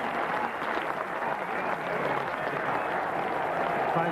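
A crowd at Old Trafford claps steadily for a splendid innings in the 1992 England v Pakistan cricket Test, dense applause holding for several seconds with faint voices mixed in.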